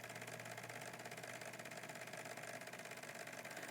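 A computerized embroidery machine stitching the top of a gnome puppet's hat, running a steady mechanical hum with rapid, even needle rhythm throughout, close and constant with no talking.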